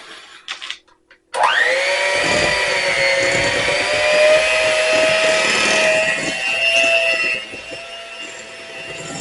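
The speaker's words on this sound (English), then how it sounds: "I'm going to start creaming the butter and the peanut butter together" An electric mixer creams butter and peanut butter together for buckeye candy. It starts abruptly after a few faint knocks and then holds a steady, loud whirring drone with a slight pitch rise before settling.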